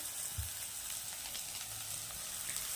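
Cabbage frying in a pan with ginger, cumin and chilli paste gives a faint, continuous sizzling hiss with a soft knock of a spatula near the start.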